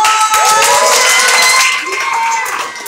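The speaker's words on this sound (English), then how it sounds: "we can scream and put our hands together and just clap loudly" An audience at a book launch cheers and claps loudly, a dense wash of applause and shouts with voices mixed in, close and sustained.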